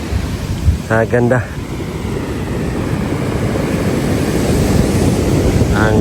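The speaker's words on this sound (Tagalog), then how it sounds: "marinig natin ang hampas ng mga alon" Ocean waves wash onto a beach in a steady, roaring surf with wind buffeting, continuous and fairly loud, while a voice briefly speaks near the start.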